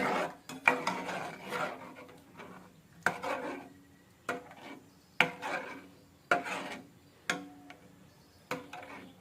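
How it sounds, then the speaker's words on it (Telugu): A spoon stirs custard milk with cardamom powder and fresh cream in a pot, about eight distinct scraping strokes repeating close and clear with quiet gaps between, no talking. "వేసేసి మొత్తం మళ్ళీ ఒకసారి కలియపెట్టుకుందాం"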